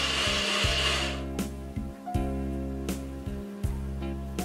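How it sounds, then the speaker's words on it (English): Coconut being grated on a DIY coconut grater, an opening burst of scraping followed by a series of rhythmic rubbing strokes with short pauses between them, close and fairly loud, with no talk. "Let us start grating the coconut and see"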